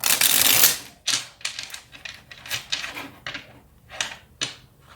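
Tarot cards being shuffled and drawn, with a loud riffling burst at the start followed by irregular crisp card snaps and slaps at close range and no talk.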